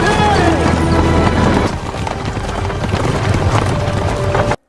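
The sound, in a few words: horse-drawn carriage hooves clip-clopping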